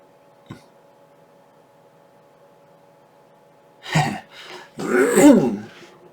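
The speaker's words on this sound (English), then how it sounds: "Sorry, I keep clearing my throat." Someone clears their throat with a short rough rasp, then gives several louder gravelly throat-clearing bursts a few seconds later, close up in an otherwise quiet room with a faint hum.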